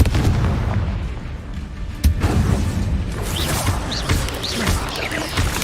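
Spell blasts of the Confringo fire curse in the Hogwarts Legacy game on PS5, loud booming impacts with sharp cracks near two and four seconds over a dense, rumbling battle din, no talking.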